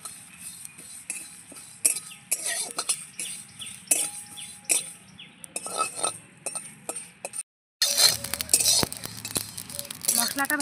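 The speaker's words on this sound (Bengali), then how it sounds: "মশলাগুলো ভাজতে ভাজতে কত সুন্দর গন্ধ বেরোয়।" Whole spices sizzle and scrape in a hot wok while pickle is made from home-grown amla, with frequent metallic clinks of a spoon stirring against the pan, close and busy, a short pause, then louder stirring at the end.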